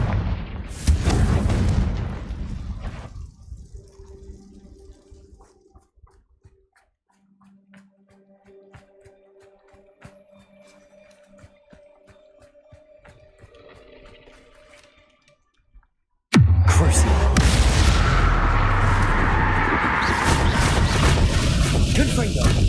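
Blasts of the Confringo spell in Hogwarts Legacy, a fiery burst at the start that fades, a quiet stretch, then a loud sustained roaring explosion that fills the end of the clip.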